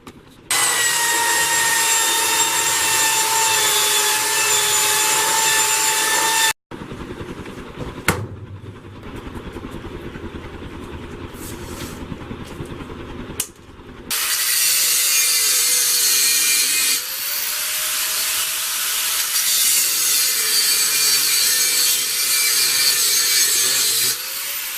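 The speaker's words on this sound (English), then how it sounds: "I'm just marking all the lines with the grinder" A grinder marks lines on steel for knife handles, giving a loud, steady high whine and abrasive rasp, stopping midway before harsh scraping and then grinding again.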